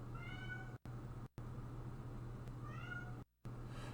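A pet cat meows twice, each cry a rising-then-falling call at close range, over a steady low electrical hum from a game setup, with brief dropouts of sound.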